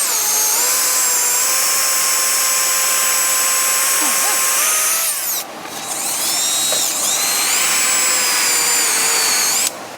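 A rotary hammer drills loudly and continuously, pausing briefly about halfway before resuming at the same steady pitch with a strained whine over the hammering.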